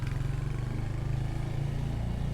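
Royal Enfield Hunter 350cc motorcycle idling with a steady, deep low-pitched exhaust thrum, close and continuous, with no voices over it.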